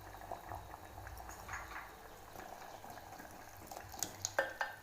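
Drumstick sambar with potatoes bubbling in a pot, a soft, quiet simmer with small pops and gentle liquid bursts, steady throughout and close by.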